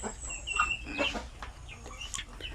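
Native chickens on a Philippine poultry farm cluck and call in scattered short bursts, with several overlapping bird voices at moderate distance and no talking.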